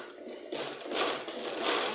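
Sewing machine running in short bursts along the edge of a denim jacket, a steady close whirring that swells and pauses, with no voices.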